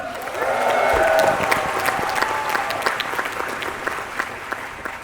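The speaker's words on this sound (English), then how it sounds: "So big round of applause for them." Audience applause with some cheering fills a large convention hall at the Marvel Comics 80th Anniversary panel at D23 Expo, loud and dense at first, then thinning slightly while sustained clapping continues for about five seconds.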